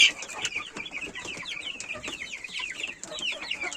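Young chickens from a winter hatch, cockerels and pullets not yet grown, keep up a busy stream of high peeping and chirping calls, overlapping and close by, with some soft clucking.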